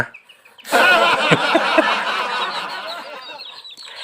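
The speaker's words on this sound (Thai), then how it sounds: "เป็นไก่ที่ค่อนข้างที่จะดุ" A sudden burst of loud chicken squawking and agitated clucking breaks out after a short quiet moment, then gradually settles down.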